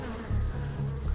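Hornets buzz in the Infected: Twin Vaccine video game, a steady droning hum with slight wavering swells, close and continuous with no talk.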